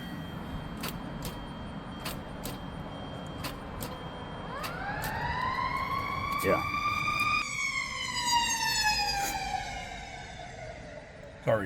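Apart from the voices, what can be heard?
emergency vehicle siren passing by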